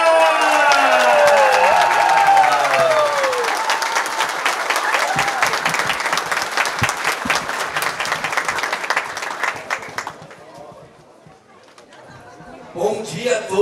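A crowd at the inauguration of a public pool in Artur Nogueira applauds and cheers for the mayor, loud dense clapping with voices over it that fades before a brief final burst.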